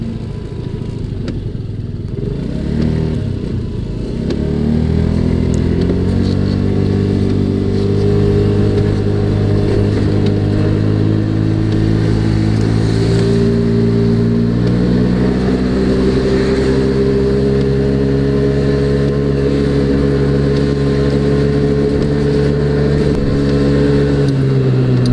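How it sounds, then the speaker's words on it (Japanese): A Honda Gyro Canopy scooter rides through the rain, its engine droning loudly and steadily, pitch shifting as it accelerates and cruises, with a rushing wet wind and road noise throughout. "あえてジャイロキャノピーに乗って買い出しに"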